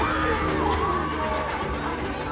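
A crowd cheers and whoops at the Accrington Christmas lights switch-on, a loud outdoor mass of voices with yells rising over it throughout.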